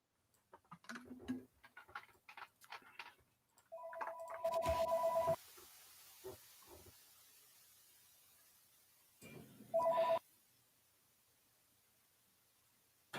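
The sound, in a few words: telephone ringing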